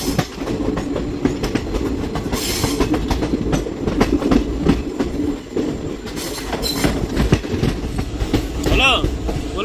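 A train rumbles along the Dudhsagar waterfalls route, a steady loud clatter of wheels on rails with a short squeal near the end, while people talk over it throughout.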